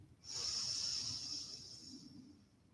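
Deep yoga inhalation drawn through both nostrils during a morning session: a steady, airy hiss lasting about two seconds, close and clear with no talking over it.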